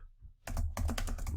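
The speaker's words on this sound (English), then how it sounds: "I can't even spell, we're typing that fast" Rapid typing on a computer keyboard, a dense run of close key clicks starting after a short quiet moment and continuing steadily to the end.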